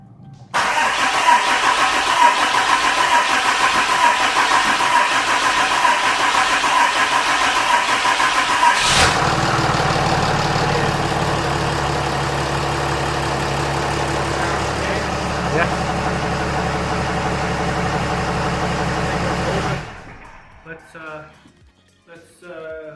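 A Dodge Ram diesel truck cranks and starts, then settles into a loud, steady diesel idle with a clattering rumble before cutting off near the end, with people talking nearby.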